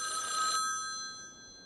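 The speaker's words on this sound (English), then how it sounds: "The green phone is ringing." A telephone bell rings in the 1988 film Maniac Cop, a bright electronic trill that sounds loudly for about half a second and then fades away as it decays.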